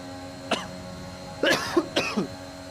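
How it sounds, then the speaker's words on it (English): During an F1 2021 sim-racing livestream of the United States GP, someone coughs three times in quick succession against a low background hum. "a fit of cough over there"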